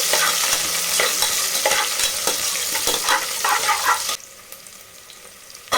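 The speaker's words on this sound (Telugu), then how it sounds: "పచ్చిమిర్చి సన్నగా కట్ చేసుకున్న ఆనియన్ కూడా వేసేద్దాం ఇప్పుడు వీటిని అయితే మంచి కలర్ వచ్చేంత అయితే ఫ్రై చేసుకోవాలి" Green chilies and thinly sliced onion frying in a pan for mutton biryani, a loud continuous sizzle under repeated stirring scrapes, close up, dropping abruptly to a much quieter simmer for the final seconds.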